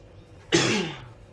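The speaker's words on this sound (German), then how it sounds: "Ja, blöder Husten." A single loud, raspy cough bursts out close to the microphone and fades over about half a second, against quiet background.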